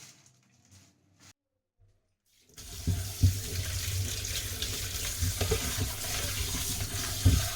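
Running tap water pours steadily into a sink as raw chicken is rinsed, a close, continuous hiss with occasional clunks and splashes, after a near-silent start.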